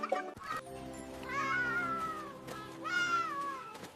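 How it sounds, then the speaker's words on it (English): A cat gives two drawn-out, rising-and-falling meows, one after the other, loud and close, with a short sharper sound just before them. "Cat says meow"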